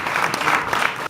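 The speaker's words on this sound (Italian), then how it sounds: "Un applauso." A crowd at a local police ceremony claps in a short, dense burst of steady applause that cuts off abruptly.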